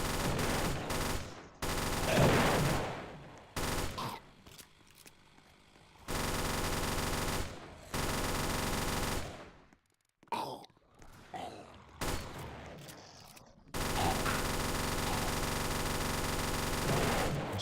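Rapid automatic gunfire from the snowy zombie-survival game Final Stand 2, loud sustained bursts broken by short pauses and a few quieter gaps across the stretch.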